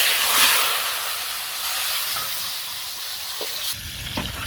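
Olives tipped into hot oil seasoned with five-spice (panch phoron), a loud steady hiss and sizzle that gradually settles, with a few faint clinks near the end.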